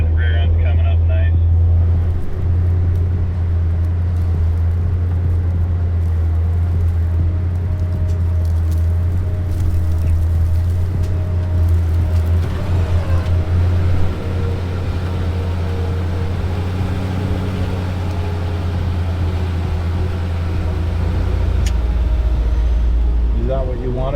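An off-road vehicle stuck in California drives forward while a passenger-side winch pulls it: a steady low engine drone runs throughout, with people talking over it.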